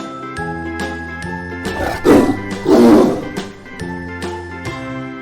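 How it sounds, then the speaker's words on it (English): A tiger roars twice in quick succession, loud and close, in the middle of a children's alphabet song with bright tinkling music running throughout. "T for Tiger."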